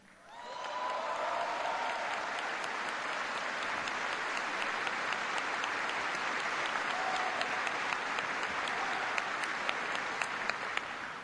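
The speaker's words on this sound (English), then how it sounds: "give a big round of applause to the Ground Forces Band" Audience applause for the Ground Forces Band at a military ceremony marking the final U.S. troop withdrawal from Iraq: dense, sustained clapping from a large crowd that swells in quickly and holds steady, loud and close, for about eleven seconds.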